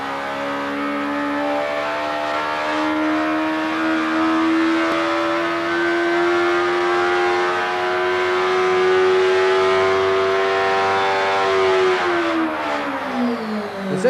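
A motorcycle engine revs steadily upward through its range on a dyno, a rising mechanical whine held loud and close before dropping off near the end.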